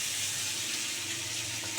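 Ginger, garlic and onion fry in a pan with a steady, bright sizzle heard up close, constant throughout with a small clink near the end.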